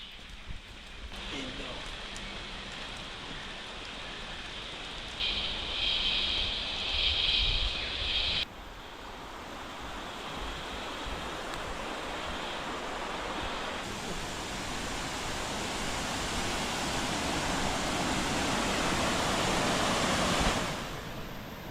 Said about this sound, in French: Il pleut, il y a du tonnerre, c'est un truc de dingue.